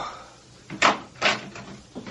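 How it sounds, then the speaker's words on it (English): A back door in a radio drama sound effect opens and shuts with two close, solid wooden knocks, then a softer third bump. "I thought I heard someone come in the back door"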